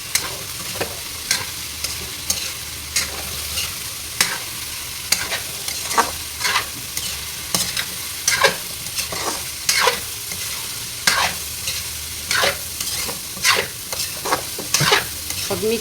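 Ingredients frying in a pan are stirred with a utensil in a steady run of sharp scraping strokes over a continuous close sizzle, with no one talking.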